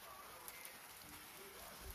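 Heavy rain falls steadily, a dense even hiss of drops on surfaces, faint and continuous with no voices.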